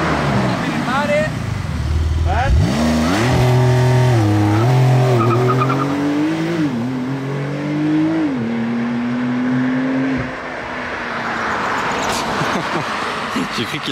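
A BMW M2 revs hard with a wavering, climbing engine note and screeching tire squeal during a burnout, loud and close, ending abruptly after about ten seconds into fainter background noise.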